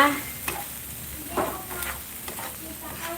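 Chicken sisig made from leftover roasted chicken sizzles steadily in a pan as it is stirred, with scattered scraping clinks of the spatula over a continuous hiss.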